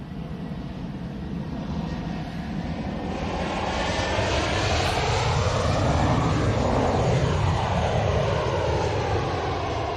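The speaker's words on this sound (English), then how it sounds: "A Ryanair 737-8200? It's a Ryanair Max." A Ryanair Boeing 737 Max airliner arriving from Milan roars overhead in a broad engine rumble that swells toward the middle and then holds loud, with a sweeping whine and no voices over it.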